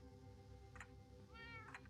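A cat in a modded Minecraft world gives two short, high meows about a second apart, the second more drawn out, over a steady low game hum without speech.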